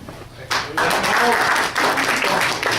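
An audience at a tactics and rules seminar applauds as the speaker is introduced. The dense clapping swells in suddenly and holds steady and fairly loud, with voices mixed in.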